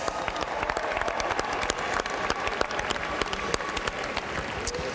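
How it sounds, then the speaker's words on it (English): Crowd applause for Georgia Southern and Liberty after the Cure Bowl college football game, scattered sharp individual claps within a steady patter from the gathered people, continuous for five seconds. "A round of applause."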